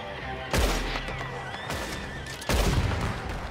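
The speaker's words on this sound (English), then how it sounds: "I'm shooting the windows out" Gunfire in Red Dead Redemption 2 as windows get shot out: two loud bursts of shots with crashing, ringing debris between them, heard close by and with no talk.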